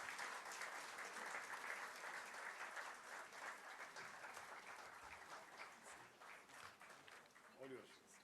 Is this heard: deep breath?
no